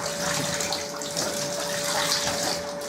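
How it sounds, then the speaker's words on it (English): Water pours and splashes steadily as it drains out of a washed motorcycle textile jacket, a continuous close gushing trickle with no talking. "so once it's drained one way, get it round the other way, get it draining that way as well"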